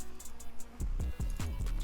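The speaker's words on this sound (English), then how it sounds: "I added this open hat at the end of the 4-bar loop." Within a hard trap beat made in FL Studio, short bright open hi-hat hits ring over a deep, sliding 808 bass line and sparse percussion, with the loop playing loud and up close.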